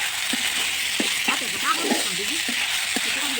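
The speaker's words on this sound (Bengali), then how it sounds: "এখন যেটা করব, এটা আমি নেড়ে চেড়ে একটু ঝরঝরে করে নেব, অনেকটা সময় নিয়ে নেড়ে চেড়ে নিতে হবে।" Broken rice being stirred and fried in a pan, a constant soft sizzling hiss under steady close-up talking.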